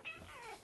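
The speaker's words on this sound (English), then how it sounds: "there's a cat." A domestic cat lets out a single short meow, close and fairly soft, with quiet room tone around it.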